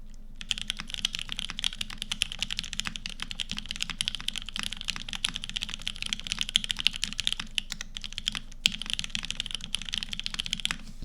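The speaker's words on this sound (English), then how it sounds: "I'm gonna go turn off the fan and do the keyboard sound test again." Steady typing on a computer keyboard, close and fairly quiet, with a rapid continuous patter of key clicks and a few louder strokes, with no fan noise in the room.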